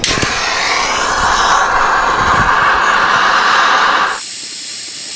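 A torch heating a seized bolt on a VW Cabriolet during water pump and timing belt work, a loud continuous close-up roaring hiss that runs unbroken for about four seconds, then cuts off abruptly, leaving a faint thin high hiss.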